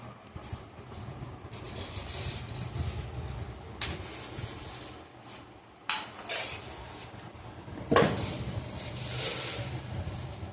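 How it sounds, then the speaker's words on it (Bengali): Unpacking and opening a new pressure cooker among kitchenware: sparse metallic clinks and clacks with a few sharper knocks, over a faint steady background hum and no talking. "এখন ওপেনিং করা হচ্ছে শ্যামের প্রেসার কুকার।"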